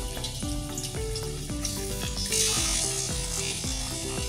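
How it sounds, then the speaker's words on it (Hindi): Chicken for karahi fries on a high flame, browning in a pan with a loud continuous sizzle. A rhythmic rattling scrape repeats about every half second throughout. "और इस चिकन को हम उस वक्त तक फ्राई करेंगे जब तक चिकन ब्राउन ना हो जाए"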